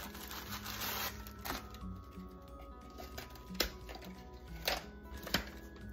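A small food processor whirs and rattles nearby, crackers clattering and crunching inside with a few sharp knocks, steady throughout with no voices.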